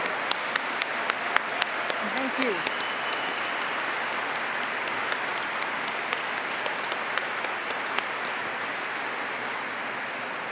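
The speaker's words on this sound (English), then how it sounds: "Let's give them a round of applause." Sustained, even applause from a convention audience honoring presidential candidates at a Unitarian Universalist general assembly, a steady wash of many hands with a few sharper nearby claps and a brief spoken thanks.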